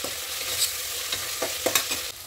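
Tomato pieces and ginger garlic paste fry in a pan for egg biryani, giving a steady soft sizzle broken by a few scraping stirs of a spoon, close and fairly quiet, with no talk.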